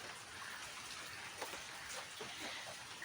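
Steady rain falls in a soft, continuous wash, with a few scattered drips pattering nearby and no one speaking.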